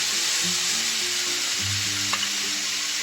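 Tomato and ginger garlic paste frying for egg biryani gives a loud, steady hiss with a faint low hum underneath and one brief clink of a utensil.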